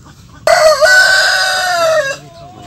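Chickens at a poultry farm give one loud, drawn-out, crowing call. It starts abruptly, holds for almost two seconds, then cuts off into near silence, with no voices.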